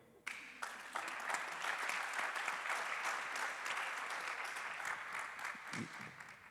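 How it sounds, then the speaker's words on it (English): Conference audience at a global food policy forum breaks into steady applause for Nairobi, beginning with a sharp onset and continuing evenly as a moderate, roomy wash of clapping until the end. "So can we clap for Nairobi?"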